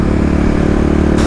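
A Kawasaki KLX351 EFI dirt motorcycle ridden on the highway, its engine droning loud and steady at close range, ending with a short burst of wind noise.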